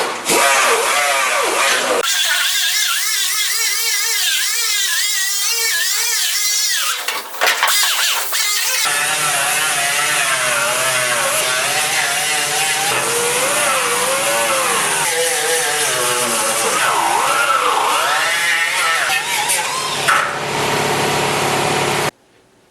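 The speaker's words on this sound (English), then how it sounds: "just a knotted wire wheel here on the die grinder" Knotted wire wheel on a die grinder scrubbing the steel door of a 1947 Ford pickup, a loud continuous high-pitched whine and abrasive rasp that wavers with pressure, close up and alone.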